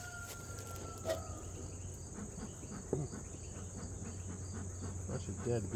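Crickets chirp in a continuous, high, even trill outdoors among fall goldenrod, fairly faint over a low background hum, with a few soft rustles and knocks nearby.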